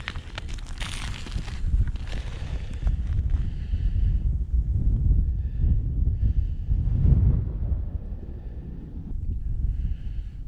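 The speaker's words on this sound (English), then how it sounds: "That wind sure isn't giving me a break." Wind gusts across a frozen Mississippi River backwater during ice fishing, a steady low roar buffeting the microphone with stronger surges near the start and middle, broken by faint higher tones.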